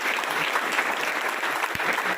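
An audience claps continuously and densely throughout, a full steady round of applause at an interview event.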